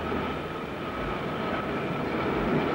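A train carrying zinc ore from a mine at Rosebery gives a steady low mechanical rumble, continuous and fairly faint, with no pauses or distinct clanks.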